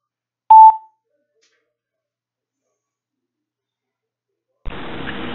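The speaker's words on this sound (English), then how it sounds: "Let me let it beep." A single short electronic beep, then silence, followed by a steady hiss of noise.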